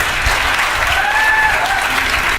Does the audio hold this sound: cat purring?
no